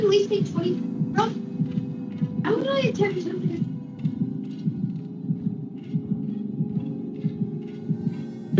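Heartbeat warning from the horror game Dead by Daylight: a steady, low, muffled throbbing pulse that runs throughout, with faint voice-like sounds and game noises layered over it early on.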